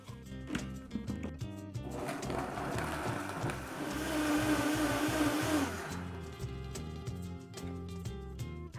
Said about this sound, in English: Cover and blend until completely smooth.